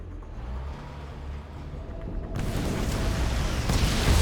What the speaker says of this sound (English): Is that a vapor bomb?